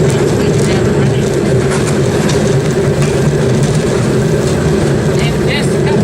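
A railway motorcar on the Toledo Lake Erie & Western Railway rolls steadily along the track with a loud, continuous low rumble and rattle, and a voice speaks over it.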